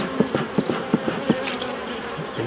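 A honeybee buzzes around a beekeeper working a hive in the UK, its wingbeat drone rising and fading as it circles close, with faint soft knocks underneath.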